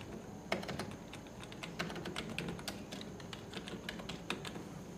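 Rapid typing on a computer keyboard, a dense, uneven run of quiet clicks that continues throughout over a low background hum, with no voices.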